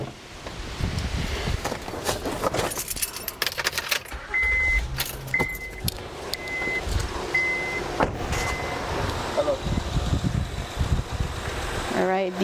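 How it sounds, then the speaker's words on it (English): A 2011 Honda Pilot is started with the key: keys jangle, a series of short chime beeps sounds, and then the engine turns over and runs, with a person talking throughout. "I will just start the engine with the key."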